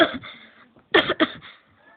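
A person coughs close by, a short cough followed by a pair of sharper coughs after a pause.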